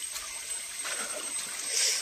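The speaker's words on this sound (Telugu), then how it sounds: "అరే వాటర్ వస్తున్నాయి కదా" Water flows out from below, a steady faint trickle and splash without pause throughout.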